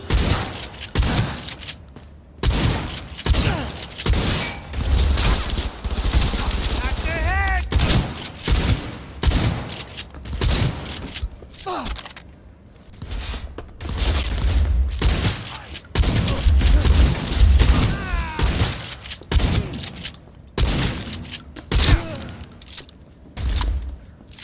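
Gunfire in the video game Cyberpunk, repeated bursts of loud shots and thuds in rapid irregular volleys over most of the stretch, with brief shouted voices mixed in.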